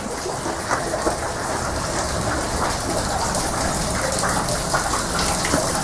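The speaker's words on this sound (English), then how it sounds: "Water turbine." Rushing water driving a water turbine at the Gower Heritage Centre, a loud, steady broadband gush that continues unbroken throughout, close and dense, with no voices.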